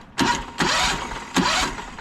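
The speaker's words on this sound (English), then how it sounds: "we're gonna just be able to press the button to hit the engine start" The engine on a work rig fitted with a slim chem tank and a buffer tank starts at the push of a start button, with several rough cranking bursts that rise into a loud, close running engine.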